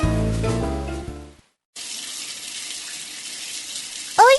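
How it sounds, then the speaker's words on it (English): Shower water runs in a steady, even hiss after a short musical passage and a brief pause, closing with a quick rising chime. "I take a shower."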